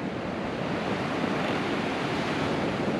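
Waves at a beach campsite in Thailand make a steady, broad wash of surf close by, with no talk over it.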